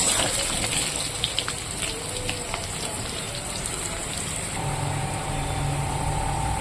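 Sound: pointed gourd frying in oil

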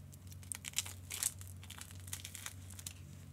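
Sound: unwrapping a watch package, crinkling wrapping

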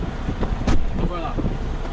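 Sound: strong wind blowing

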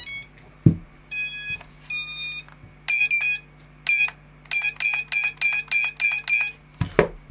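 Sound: drone buzzer beeping

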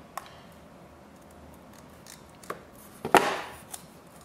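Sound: scissors snipping

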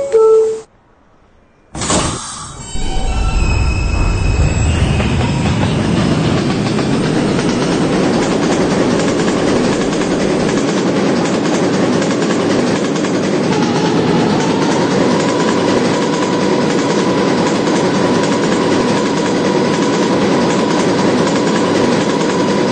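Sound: R160B subway B train riding on rails

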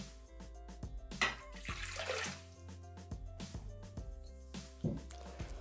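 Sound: water poured into Thermomix bowl

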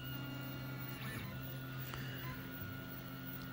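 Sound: 3D printer printing polypropylene part on cold bed

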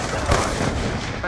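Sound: gunfire in the video game Black Ops 2

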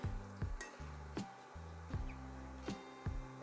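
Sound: gram flour mixture roasting in oil on low gas

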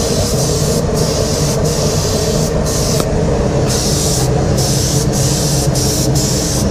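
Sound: lubricating spray sprayed onto casting die

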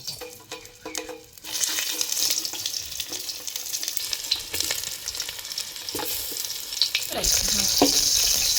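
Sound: brinjals frying and being stirred in oil

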